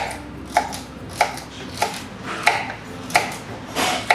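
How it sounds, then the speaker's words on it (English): A knife chops food on a board in slow, regular strokes, about one crisp thud every half second or so, close by with no talking. "I'm chopping them thinly"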